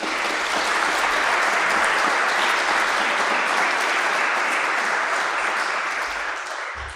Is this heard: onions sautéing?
no